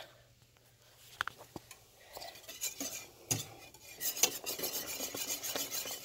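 Oats being stirred in a pot with a utensil, soft scraping and clinking strokes that grow denser and louder toward the end, close up and with no talking.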